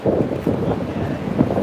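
Strong wind batters a microphone outdoors in Hong Kong in a brief, continuous low roar of rumbling gusts and buffeting, loud and close with no other sound standing out.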